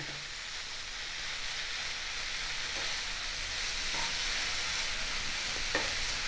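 Fenugreek greens and potatoes fry in hot oil in a pan, a continuous close sizzle with occasional stirring clinks and scrapes, and no talking.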